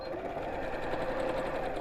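A sewing machine runs steadily through pre-cut fabric pieces with a continuous, even whirring hum at close range and no pauses.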